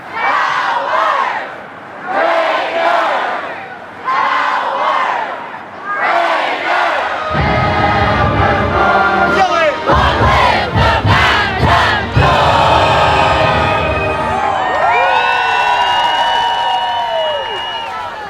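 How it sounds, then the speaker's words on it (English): A large crowd at a Texas Tech pep rally in Times Square, New York, chants a rhythmic power cry in loud bursts, then erupts into sustained roaring shouts and cheering that fill the open street. "you can hear it in the Raider power cry that took over Times Square that morning"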